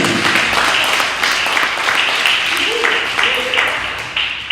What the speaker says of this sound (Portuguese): E só quem crê dá uma aplauso ao Senhor Jesus.